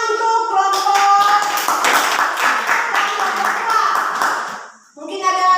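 A class claps for a group of students in a classroom. Quick, lively clapping runs under loud children's voices for several seconds, then breaks off briefly before the voices return.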